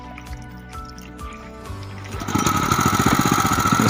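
A rice transplanter's engine, a four-row planting machine, is started: quiet tonal background first, then the small engine catches and runs with a loud, steady, rapid chugging putter close by.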